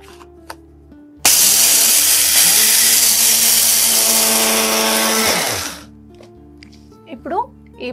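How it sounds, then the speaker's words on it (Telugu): A kitchen mixer grinder jar grinding roasted barley into powder, starting abruptly with a loud steady whirring roar for about four seconds, then winding down; quiet background sounds before and after. "సో ఇలా మనం మిక్సీ జార్లో వేసేసి దీన్ని పౌడర్ ఫామ్లో ప్రిపేర్ చేసేద్దాము."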